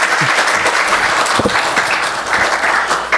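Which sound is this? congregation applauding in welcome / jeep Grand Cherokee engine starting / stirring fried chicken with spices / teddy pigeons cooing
congregation applauding in welcome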